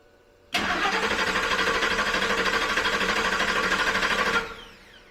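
A Ford F-150 with a freshly changed fuel pump cranks for about four seconds, a fast, even, rhythmic starter whirr that never catches, then winds down; loud and close with no talk.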